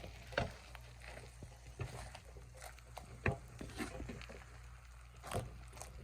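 Three eggs frying omelet style in a pan alongside Wagyu beef bacon, a soft sizzle with scattered pops, clinks and scraping, no talk.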